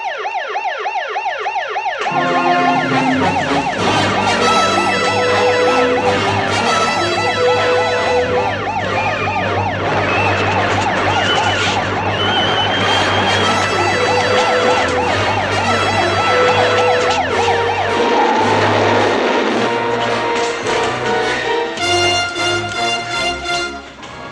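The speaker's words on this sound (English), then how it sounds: "Shaki, sound general quarters" A submarine's general quarters alarm sounds loudly and continuously, a wavering, cycling electronic tone that runs nearly unbroken for over twenty seconds with dramatic music layered beneath it.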